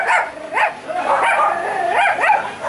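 Dogs barking and yipping at a street market in Suzhou, China, with several sharp barks and whimpering yelps close by over a low crowd murmur.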